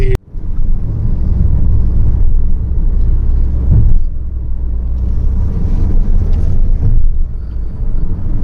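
A car driving on a road between Mecca and Taif: a loud, constant low rumble of engine and road noise with wind buffeting on the microphone and no talk.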